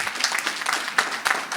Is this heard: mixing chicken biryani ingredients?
no